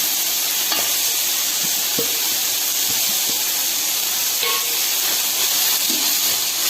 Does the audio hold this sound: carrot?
yes